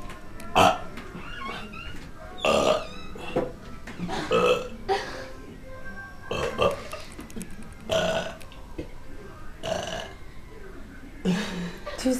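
A man burps repeatedly at home around the holidays, a string of loud, drawn-out belches spaced a second or two apart, close to the microphone.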